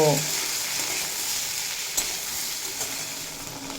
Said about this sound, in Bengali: সাথেই দিয়ে দেব স্বাদ মতো লবণ দিয়ে লো টু মিডিয়াম ফ্লেমে রেখে চার পাঁচ মিনিট মতো ভেজে নেব